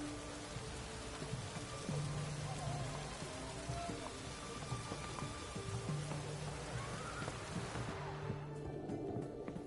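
Steady rain falling in the video game The Witcher 3, a continuous soft hiss under low ambient game sounds and occasional tones, thinning out near the end.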